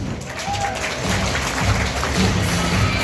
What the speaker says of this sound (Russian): давайте бурными овациями еще раз поаплодируем президенту Владимиру Владимировичу